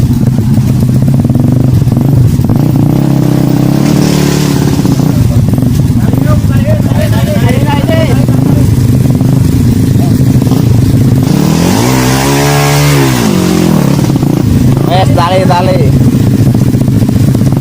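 A motorcycle engine revving hard while stuck in deep mud on a forest trail in Central Java, loud and continuous with rising and falling throttle surges, and people talking over it.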